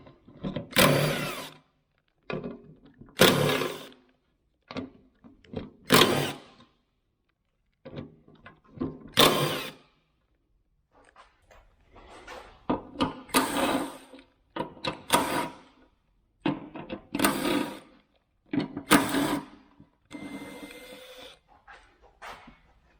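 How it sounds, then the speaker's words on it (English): A fuel pump is worked loose and pulled from the fuel tank of a 2008 Kawasaki Vulcan 900, producing repeated close bursts of metallic scraping, clunking and rattling separated by short silences. "I'm going to go ahead and pull the fuel pump out first"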